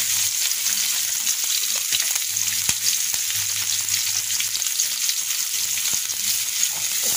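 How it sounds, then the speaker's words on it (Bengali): Chopped onions frying in mustard oil in a wok give a steady, close sizzle with faint crackles and light stirring scrapes throughout, no voices. "একটা কড়াই দিয়েছি, তাতে পেঁয়াজ কুচি দিয়ে দিয়েছি,"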